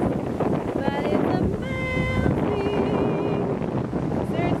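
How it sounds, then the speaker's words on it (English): Strong wind gusts on Sarasota Beach buffet the microphone in a constant loud roar, with faint surf underneath and a few brief whistling tones. "You probably can't even hear this because of how windy it is."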